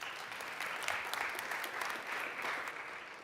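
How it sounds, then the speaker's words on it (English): An audience at the TechChill Riga tech conference applauds a venture capital speaker taking the stage, a steady wash of many hands clapping for a few seconds at a faint, distant level. "and a little round of applause"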